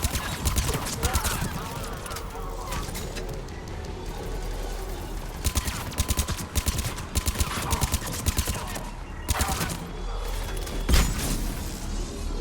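Gunfire rattles in the video game Mass Effect 3, with sharp shots and clattering bursts scattered among mechanical clicks, while a player's voice talks intermittently.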